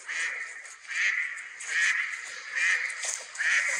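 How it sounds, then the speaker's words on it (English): A duck on a lake gives a steady run of loud, nasal quacks in a regular rhythm, about five calls spaced close together, with no voices over them. "you've got a trappy duck over there."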